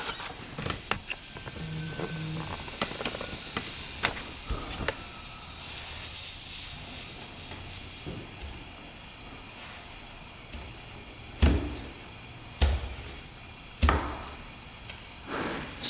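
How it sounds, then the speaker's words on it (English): Air hissing out of a race quad engine with a failed head gasket, a steady close hiss in the first seconds that drops back to quieter puffs and a few sharp clicks and knocks. "You guys hear the air coming through? So, looks like we've got a head gasket failure."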